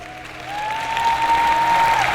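An audience at a motivational talk breaks into applause, a steady wash of many hands clapping that swells slightly and holds, with a thin whistle-like tone running over it.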